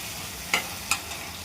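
Chicken curry with tomatoes stirred in a pan, a low simmering background broken by two sharp spoon scrapes and a softer third one, close and quiet with no voices.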